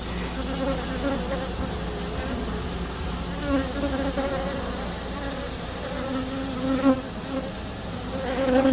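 Honeybees at an established hive buzzing and fanning, a dense steady drone close by with individual bees rising and falling in pitch, no talking.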